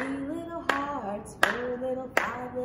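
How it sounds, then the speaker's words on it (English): Sharp, evenly spaced claps from young children keeping time with a counting rhyme at a storytime for twos and threes, three distinct slaps roughly every 0.7 seconds over a sustained sung or spoken voice. "Great job clapping, everyone."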